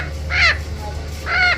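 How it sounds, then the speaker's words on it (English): A macaw parrot gives two harsh, raspy squawks, each about a third of a second long, close and loud, with a short pause between them. "Macau parrot."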